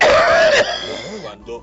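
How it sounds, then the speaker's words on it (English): A woman clears her throat and coughs in a harsh burst, followed by a few quieter vocal sounds and a short pause. "Mama, you have to stop coughing."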